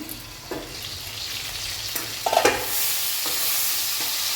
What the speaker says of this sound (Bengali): মাছটা তো ভাজা হচ্ছে